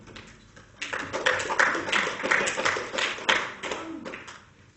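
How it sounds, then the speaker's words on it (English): Audience clapping at a classroom debate, a scattered round of hand claps building into steady mixed applause with some murmuring underneath, heard at moderate distance. "Please clap for the 14 if you are within."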